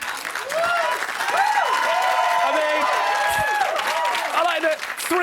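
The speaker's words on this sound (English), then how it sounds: "Three of you went to clap and the rest of you went, oh, go on then" Studio audience at the live Celebrity Big Brother UK 2016 spin-off show breaking into loud, sustained applause, with whoops and cheers rising above the clapping for the full length.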